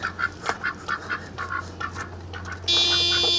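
Duck quacking in repeated short calls, fairly close, with a steady low hum beneath; a sharp high-pitched tone cuts in near the end.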